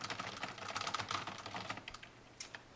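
Rapid, steady keystrokes on a new desktop computer keyboard with smooth-pressing keys, close and fairly loud, continuing alone without any talk.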